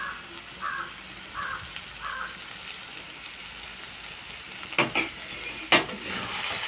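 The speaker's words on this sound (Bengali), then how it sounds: "ভাজা জিরার গুঁড়োটা দিয়ে আবার একটু নাড়াচাড়া করে নেব" Taro greens stirred in a pan with roasted cumin powder, soft scraping strokes repeating every half second or so, then two sharper utensil knocks against the pan, over a faint background.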